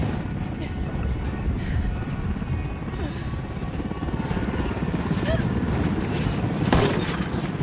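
Helicopter rotor roar in the Ghost Recon Wildlands shooter, a loud continuous thrumming wash mixed with bursts of gunfire and shouted voices during a combat cutscene.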